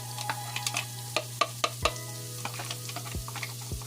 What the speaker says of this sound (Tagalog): ilalagay ko yung aking garlic